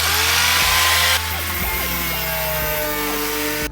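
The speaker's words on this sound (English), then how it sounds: "finally the grinder has showed up" An angle grinder cuts through the steel body of a Hyundai being turned into a convertible, a loud continuous whine with shifting pitch that changes tone partway as the disc bites into the metal, with no talking.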